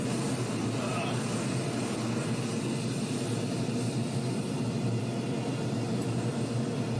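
A torch flame heating scrap silver roars in a steady, unbroken hiss for several seconds, close and even in loudness.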